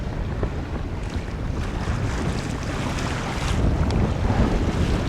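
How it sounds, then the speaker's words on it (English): The sailboat Mingming II on her maiden voyage, sailing on a beam reach near Unst, with loud, steady wind roaring across the microphone over the wash and rush of waves, building slightly toward the end. "we're sailing more or less on a beam reach here"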